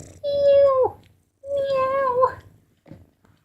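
A cat meowing close up, two long drawn-out meows followed by a short faint chirp, with no other sound between them.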